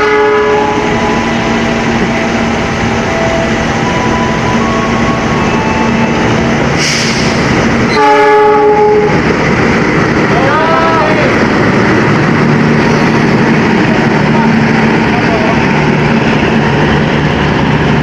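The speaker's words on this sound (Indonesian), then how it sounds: "melintas langsung kereta api Sembrani Tambahan dari stasiun Gambir tujuan akhir stasiun Surabaya Pasar Turi" The Sembrani Tambahan passenger train from Gambir to Surabaya Pasar Turi passes loudly and close, its horn sounding in a long multi-tone blast mid-pass over the roar of wheels and carriages.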